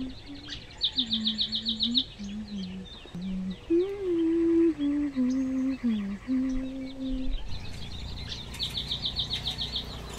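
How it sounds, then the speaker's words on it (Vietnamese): Birds singing in a forest near a stream, repeated high chirping trills and a lower warbling call in varied phrases, fairly close and clear over a steady background hiss of running water. "tiếng chim hót"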